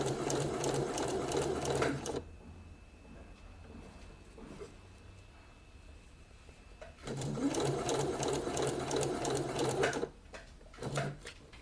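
A sewing machine stitches ribbon onto a puff sleeve, running in steady close bursts that stop for a few seconds and then start again, with a short final run.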